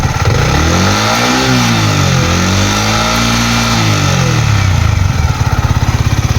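A car engine is revved in short bursts to push coolant out through a hose, loud and close, with a mid-pitched rising and falling growl and no talking.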